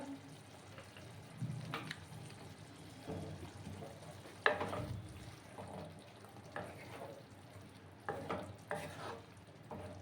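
Mustard oil drizzled over a near-finished Tangra fish curry sizzling in the pan, with soft frying crackle and stirring scrapes, brief louder clinks and splashes, moderately close, no voices.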